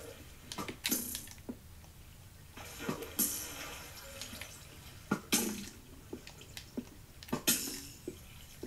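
Intermittent splashes and drips of water in Minecraft, arriving in short irregular bursts over a quiet background, with no voices.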